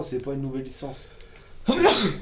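A single sneeze bursts out near the end, loud and close, just after someone speaks briefly in French.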